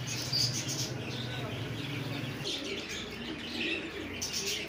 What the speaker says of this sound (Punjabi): ਇਹ ਸਰ ਪੂਰਾ ਜੋੜਾ ਜੀ ਕਬੂਤਰਾਂ ਦਾ